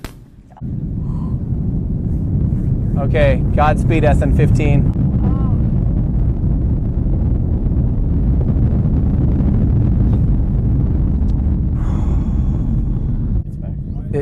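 A deep, continuous roar from the SpaceX Starship SN15 rocket launch rumbles loudly and steadily, with a voice speaking briefly over it near the start.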